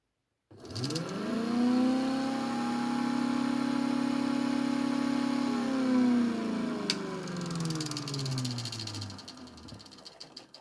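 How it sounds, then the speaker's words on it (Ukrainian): An electric motor switched on in a home-built free-energy, self-charging setup runs up with a steady hum and harmonic whine, holding level for several seconds before winding down, close and clear with no talk. "І зараз включаю живлення на двигун."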